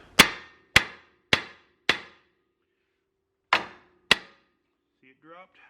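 Hammer blows striking the control arm on an OBS Chevy truck front end, four sharp metallic smacks in quick succession, a pause, then two more, loud and close, with a faint voice at the very end.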